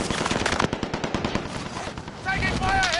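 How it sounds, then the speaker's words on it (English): Rapid automatic gunfire in Call of Duty Warzone Resurgence hammers out dense, loud bursts of shots, with a brief lull and then more sustained fire layered with chirping game effects. "Taking fire here! I'm hit!"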